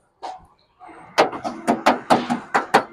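A Suzuki Bolan van, a 2018 model, has its door handled and pulled shut: one dull thud, then a quick run of about seven sharp metallic knocks and slams, loud and close, with no talking.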